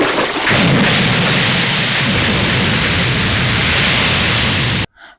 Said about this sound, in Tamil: பிரபுதேவா அவர்கள் பாம் வீசியுடன் வெடித்து சிதறும் காட்சி